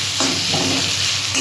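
Chopped onion frying with spices in a pan for a jackfruit curry, a steady close sizzle with a few soft stirring scrapes and no voices.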